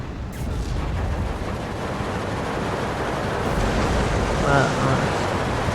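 Frag grenade blasts in the WWII strategy game Steel Division 2, a dense roar of explosions and rumbling battle noise sustained throughout, with surf-like washes of debris and a louder burst near the end.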